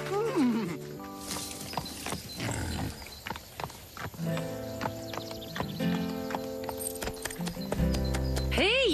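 A voice imitates a horse, blowing and whinnying in broken bursts with clip-clop-like clicks, close and fairly loud, with other voices speaking around the performance.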